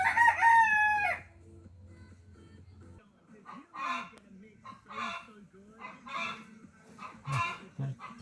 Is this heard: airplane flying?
no